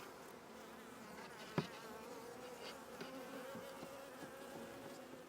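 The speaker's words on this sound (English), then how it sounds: "I'll give these bees a chance to calm down." Honey bees buzz in a steady, agitated drone around a hive, with one sharp knock partway through, and a few fainter bumps after it.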